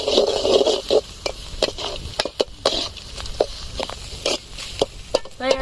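Egg chapati and prawn noodles being stirred in a hot oiled pan, with irregular scraping clatters and a soft sizzle between strokes, close and fairly loud.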